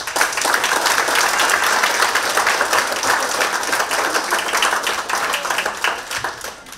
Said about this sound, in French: Je pense que ça mérite une main d'applaudissements.